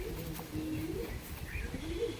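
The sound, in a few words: pigeons cooing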